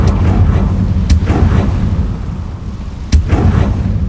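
Confringo blasting spell cast in the Hogwarts Legacy game, a sharp explosive burst over a rumbling, dense game soundscape, with a second loud blast cracking through a few seconds later.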